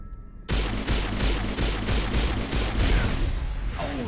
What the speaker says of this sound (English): Is that a shotgun shooting in an X shape?